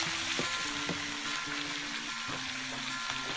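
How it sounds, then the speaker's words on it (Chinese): A fish head frying in a pan in a rural home kitchen gives a steady, close sizzle that crackles and spits continuously throughout, with no talking. "煎另一边"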